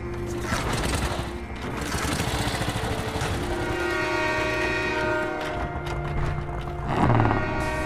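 A moving train in the Call of Duty Black Ops video game, a loud steady rumble and clatter of rail cars with a sustained horn-like tone, a swell in the final second and no talking.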